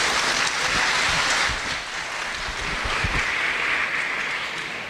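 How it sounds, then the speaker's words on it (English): Steady applause from an audience at a youth fair dog show fills the space with dense, even clapping that swells slightly and then eases before rising again. "Everybody please give them a round of applause."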